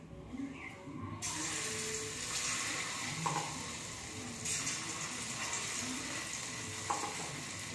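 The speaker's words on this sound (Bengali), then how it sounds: "তেলটা গরম হয়ে গেছে, এবার আমি এগুলো ভাজব।" Paneer, potato and capsicum hitting hot oil on high flame, a steady frying sizzle starting abruptly after a quiet moment, with occasional stirring scrapes over the constant crackle.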